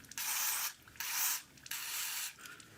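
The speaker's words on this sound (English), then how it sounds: "I'll just give them a quick spray of deoxit" Aerosol DeoxIT contact cleaner sprayed onto the tone switches of a Philips B6X04A radio during repair: three hissing bursts of about half a second each, close and fairly loud, separated by short pauses, with no talking.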